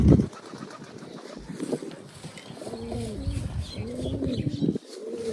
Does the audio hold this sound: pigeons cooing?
yes